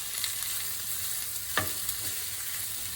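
Smoked, precooked sausage and broccoli sizzle steadily in a hot frying pan, a continuous bright hiss with a sharper scrape or clatter of stirring partway through, heard close with no talking.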